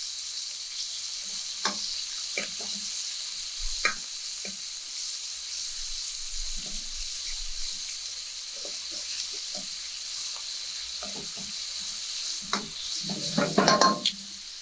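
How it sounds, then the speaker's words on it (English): Shrimp searing in a hot pan with a steady sizzle, broken by scattered scrapes and clacks of stirring that grow busier toward the end, close and alone with no talking. "Want to get a nice little sear on them"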